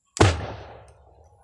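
A homemade boga cannon fuelled with Boysen thinner fires once: a single loud, sharp bang close by, followed by a rumbling decay that fades over about a second.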